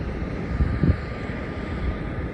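A Qantas Boeing 737 departs from the east-west runway at Melbourne Airport, heard as a broad, steady distant jet roar with low rumble and wind buffeting, no voices over it.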